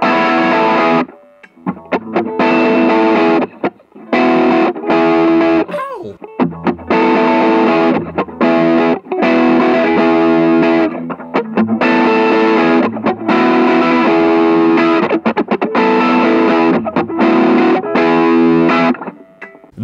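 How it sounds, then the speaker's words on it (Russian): A B.C. Rich Mockingbird electric guitar played loud through heavy distortion and effects, chugging rock chords and riffs with brief stops between phrases, steady and close throughout. "Давайте заценим дисторшн"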